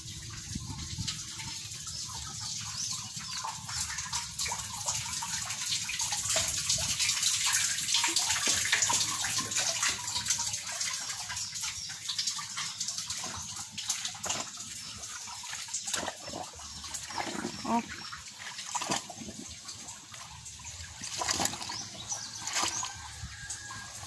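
Muddy water gushing from a well pump, a continuous loud rushing pour that swells and eases over time, with faint birds in the background.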